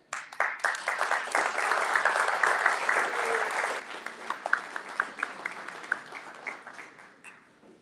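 Graduation audience at a Newark culinary and logistics program breaks into full applause, dense and close for several seconds, then thins into scattered individual claps that taper off.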